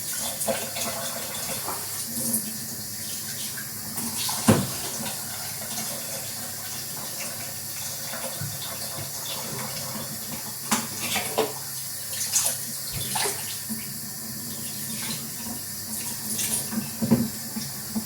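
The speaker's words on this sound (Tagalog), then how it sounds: "tatakalin ko na kung paano karaming tubig." Tap water runs steadily into a sink in a UK home kitchen while water is measured for jasmine rice, a continuous close splashing gush with occasional clinks and knocks, and no talking.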